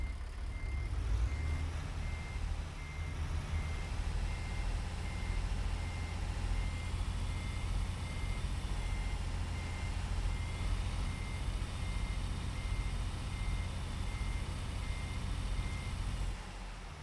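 An American Truck Simulator truck maneuvers slowly, its low engine drone running steadily under a regular series of high reversing beeps that repeat throughout.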